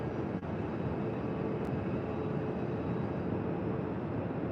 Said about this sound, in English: One pushing back now, heading to Raleigh, Durham.